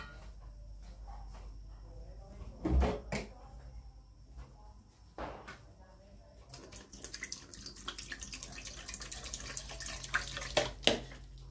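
Water poured into a cooking pot while making a spicy Thai fish dish, splashing and trickling in short bursts. A voice talks over parts of it with some clattering in between.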